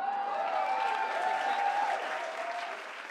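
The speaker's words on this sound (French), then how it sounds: "on vous a fait une petite main d'applaudissement pour merci d'être là." Audience applause from a crowd of women at an outdoor field feast, steady clapping mixed with a voice and a faint tonal sound, fading slightly at the close.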